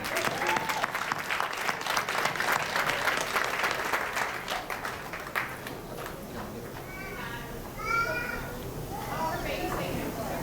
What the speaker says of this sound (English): just give her a round of applause anyway.